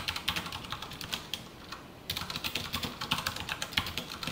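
Code typed on a computer keyboard: a close, steady run of crisp key clicks with a brief pause midway before rapid typing resumes, no voices.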